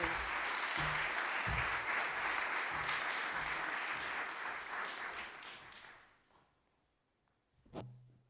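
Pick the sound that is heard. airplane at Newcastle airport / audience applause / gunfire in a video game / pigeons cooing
audience applause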